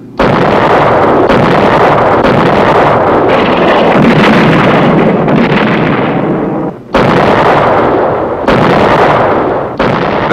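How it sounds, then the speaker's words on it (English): Naval gunfire support from the big guns of 7th Fleet ships in 1967 Vietnam, heard as loud repeated booming blasts with rumbling wind noise between the reports and no talk. "This is Naval Gunfire Support, a mobile source of big gun reinforcement for friendly troops ashore."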